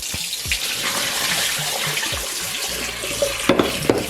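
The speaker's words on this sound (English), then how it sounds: "So this is our yam. So I'm going to rinse this out." A cut yam rinsed in a bowl of water, continuous close sloshing and splashing with a few hollow knocks near the end, no voices.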